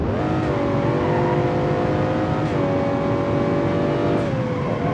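A powerful pickup truck engine in BeamNG.Drive revs hard at high speed, a loud continuous drone with gliding harmonics that dip and rise again as it shifts, running steadily through the whole stretch with no talk.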